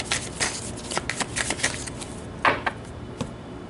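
Tarot cards being shuffled and pulled from the deck, a close run of quick papery riffles and flicks followed by a few separate snaps as individual cards are drawn.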